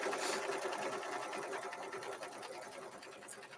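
An embroidery machine stitches down a zipper bag held in the hoop, its rapid needle chatter running steadily and fairly close throughout, with no voices over it.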